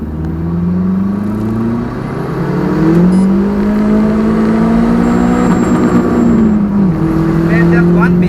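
A car with its exhaust cutout valve open accelerates hard in second gear under turbo boost, its engine note rising in a loud, rasping drone that climbs, dips briefly at a shift, then climbs again close by.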